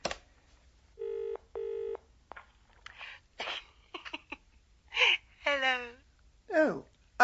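Push-button telephone being dialed in a radio drama: a sequence of distinct dialing tones in short bursts, followed by breathy vocal sounds and a brief voice, all close and fairly quiet.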